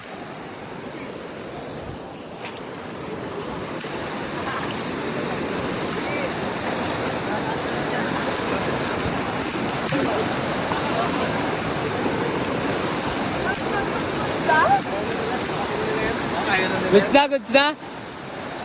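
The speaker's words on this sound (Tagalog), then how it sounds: "Grabe, lakas ng agos guys." A strong river current rushes with a broad, constant roar that builds slightly over time, and a few short splashes and bumps come near the end, with brief talk partway through.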